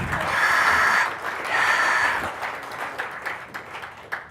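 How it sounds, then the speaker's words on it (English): Audience round of applause at a Ceph Day tech conference session, clapping swelling in two waves then thinning into scattered individual claps. "Can I get a round of applause for Karanveer Singh"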